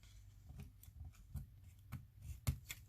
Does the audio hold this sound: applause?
no